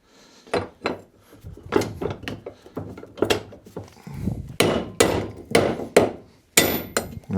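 A hammer striking wheel studs out of a MEV Exocet rear wheel hub: about a dozen loud, close metallic blows in an uneven rhythm, each sharp clang ringing briefly before the next.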